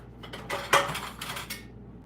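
Metal kitchen utensils clink and clatter as a knife is pulled from among them while preparing chicken tortilla soup, a short close rattle with a sharp peak midway and no talking.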